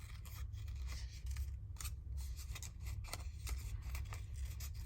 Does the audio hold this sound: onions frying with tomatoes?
no